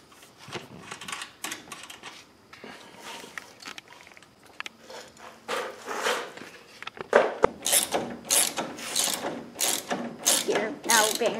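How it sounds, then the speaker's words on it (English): Ratcheting clicks come up close and in bursts as the brake band is tightened on a Model T go-kart, growing louder and quicker toward the end. "Okay, so we're tightening down the brake band and so on."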